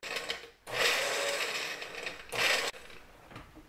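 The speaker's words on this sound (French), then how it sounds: "Je vais mixer." A blender whirs through a chili and salt marinade in two bursts, a long run and then a short one, each starting and stopping abruptly, with quieter gaps between.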